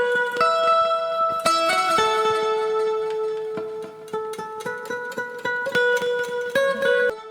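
Lead guitar sample, stretched and repitched, playing solo: sustained, bright melodic notes in a repeating phrase, clean and fairly loud with distinct note changes and no other instruments.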